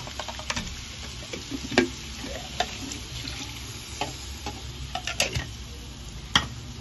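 Coconut milk and blended spice paste being stirred in a hot pan for Padang-style grilled fish, with a steady bubbling sizzle and scattered sharp clicks and taps of a utensil against the pan, close and without talk.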